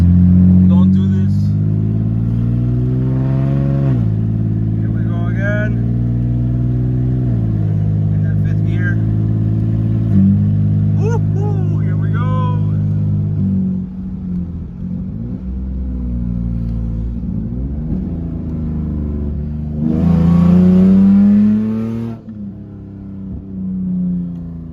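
A Lexus IS300 with a faulty brake booster accelerates hard through the gears, its engine note climbing in loud rising sweeps with drops at each shift, close and continuous, under occasional talk from the driver.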